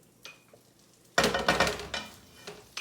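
About two tablespoons of butter hitting a pan preheated to medium-high heat, a quiet start followed by a sudden loud burst of sizzling that stays strong and crackly with small pulses, no talking.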